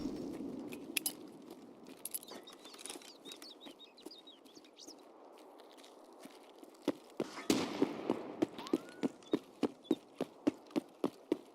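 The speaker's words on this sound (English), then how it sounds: "Sloppy shooting, sloppy shooting." Gunfire in Escape From Tarkov, starting with a few scattered distant shots, then a louder closer burst of sharp cracks firing in a steady, evenly spaced rhythm over the last few seconds.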